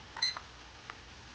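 Two short electronic beeps from a kitchen timer button press while teriyaki sauce boils, quiet and close, followed by a faint click in an otherwise quiet room.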